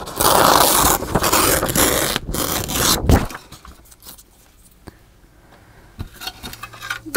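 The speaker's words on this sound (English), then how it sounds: "I don't know if I'll be able to tear them on this mat" Paper edges are torn against a glass mat, giving a long rough ripping and scraping that is loud at first and then gives way to softer scattered rustles and small taps.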